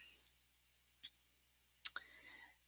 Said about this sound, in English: I'm going to click on submit